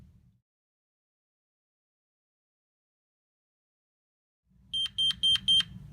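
A home security alarm panel sounds its exit delay: four quick, evenly spaced electronic beeps near the end, each a short bright burst over a low rumble, after several seconds of near silence.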